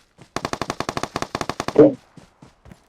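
Automatic gunfire in the PUBG Mobile battle royale game: a rapid burst of about fifteen evenly spaced loud shots, a heavier blast at the end, then a few fainter scattered shots.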